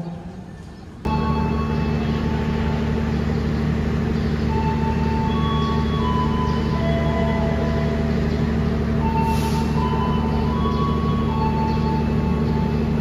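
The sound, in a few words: Taksaka train departing Purwokerto station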